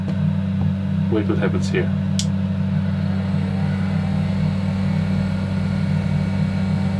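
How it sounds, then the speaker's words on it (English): Blower fan running in a homemade tornado machine, a steady low hum with a constant tone, close and continuous, under brief talk near the start. "you turn on the blower fan"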